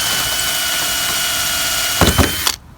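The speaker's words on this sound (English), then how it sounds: "So first I'm gonna drill out the rivets and then we can pop it off." Power drill drilling out rivets on a Nissan 350z, a steady loud whir with a few sharp bursts of grinding near the end before it cuts off abruptly.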